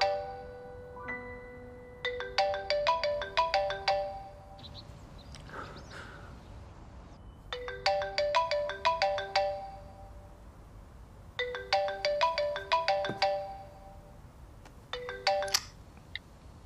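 A telephone ringtone sounds indoors at home in about four separate bursts of rapid, bright electronic chiming, separated by short quiet pauses; clear and near, with no talking.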